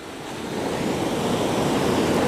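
Stormy sea surf pounding a beach in Spain, a roaring wash of waves that builds in strength, with wind buffeting the microphone and no voices.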